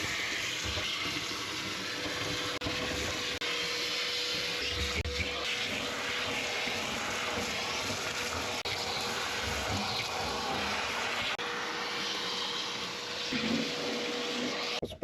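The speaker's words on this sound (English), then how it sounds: "now I'm going to give it a little vacuum" Vacuum cleaner running steadily throughout, cleaning out the carburetor area of a 1965 Corvair after mice nests were removed, a continuous broadband whoosh with a steady hum, close and fairly loud.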